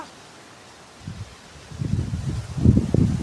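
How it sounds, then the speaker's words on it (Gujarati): Gusty wind sweeps across an open farm field, rising from near quiet into low, blustery buffeting that grows louder toward the end, with some rustling mixed in. "મસ્ત પવન આવે કા."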